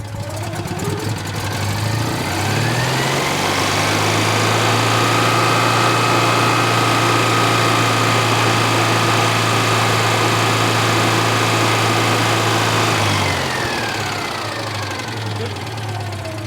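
A Citroen 2CV's small classic-car engine ticks over close by in a steady, even drone, its pitch rising early on, holding, then dropping back near the end, with voices faintly underneath.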